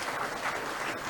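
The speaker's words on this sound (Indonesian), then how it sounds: "Tepuk tangan untuk kita semua." Crowd applause at a regional bank gathering, a dense continuous patter of many hands clapping, steady and fairly close for about a second.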